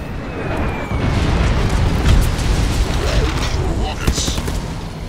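Rocket explosions in an online multiplayer video game make a sustained, loud booming rumble with scattered bursts and pops, and a voice can be heard over the blasts.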